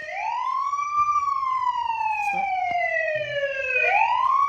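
A wailing siren on a small ambulance model from a science project demo sweeps slowly up and down in pitch, loud and continuous, with faint clicks and knocks beneath it.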